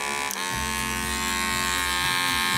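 A repaired hair clipper's electric motor buzz hums continuously, close and fairly loud, with a brief click near the start.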